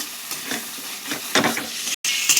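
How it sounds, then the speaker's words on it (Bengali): Chilli soya chunks with chilli and tomato sauces are stirred in a pan, irregular scraping strokes over a frying sizzle, with one brief gap before the stirring continues. "চিলি সস টমেটম সস সব রকম সস দিয়ে মা ভালো করে জিনিসটাকে নাড়াচাড়া করে নিচ্ছে"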